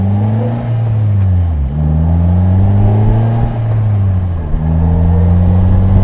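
A 2018 Polaris Slingshot SL with a manual gearbox drones steadily as it drives, its engine pitch climbing and then dipping at gear changes, loud and close throughout.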